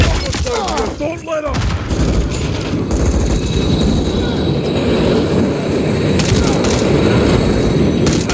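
A train in a Call of Duty: Modern Warfare III battle rumbles past loudly and continuously, with a dense low roar, screeching metallic squeals early on, and scattered gunfire-like bangs throughout.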